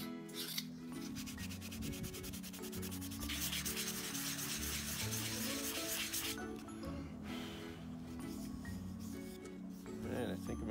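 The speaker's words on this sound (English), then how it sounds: "Sanding takes the longest" Sandpaper rubs steadily over a hand-carved wooden spoon, a close, continuous scratchy rasp with repeated strokes throughout, some passages brighter and harsher than others.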